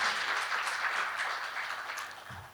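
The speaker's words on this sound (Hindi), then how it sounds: "तालियों से हम आदरणीय पाटीदार जी का स्वागत करें।" Steady applause from an audience welcoming a guest at a university ceremony, a continuous wash of clapping that slowly fades toward the end.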